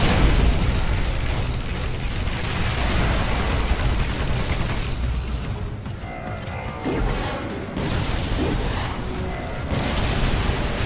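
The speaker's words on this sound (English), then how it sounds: "I just saw the ship go up." A ship exploding in the Earth Defense Force: Insect Armageddon video game, heard as a continuous loud roar of blasts and crashing debris that dips briefly and then swells again, with no talking.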